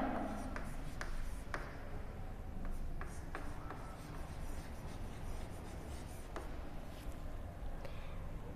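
Chalk or marker scratches and taps across a classroom board in short irregular strokes, faint and steady against a quiet room with no talking.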